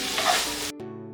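Spices frying in a pan over very low heat for aloo masala chaat make a bright, close hiss that cuts off abruptly after under a second, giving way to a quieter steady tonal hum.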